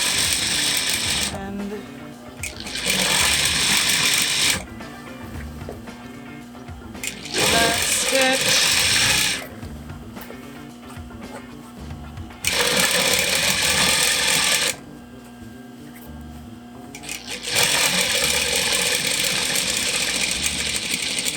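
Sewing machine stitching the folded edge of a fabric scrub bag, running in several bursts of steady mechanical whirring separated by short pauses, with talk in the gaps between runs.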